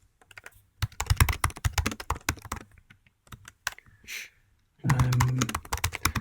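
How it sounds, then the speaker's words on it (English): Rapid keyboard typing while code is entered for a synthesizer workshop, a fast irregular clatter of keystrokes, close and fairly loud, with a few short pauses and no talking. "While he's typing this"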